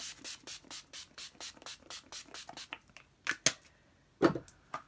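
Urban Decay All-Nighter makeup setting spray mists out in a rapid series of about a dozen short, close hissing pumps, followed by a few louder handling clicks.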